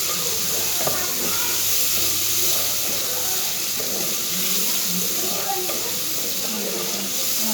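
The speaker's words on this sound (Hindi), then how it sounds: "हमारा जो है मसाला भून रहा है" Masala spice paste frying in a pan for dhaba-style aloo pulao, with cumin just added, giving a steady, close hiss and sizzle that runs unbroken throughout.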